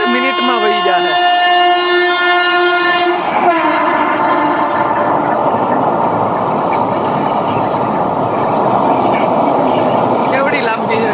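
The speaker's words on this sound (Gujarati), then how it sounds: "જો એકદમ ફાસ્ટ ટ્રેન આવે." A fast train heading toward Bandra in Mumbai sounds a long loud horn, then roars past close by with a heavy rushing rumble and rattle of wagons.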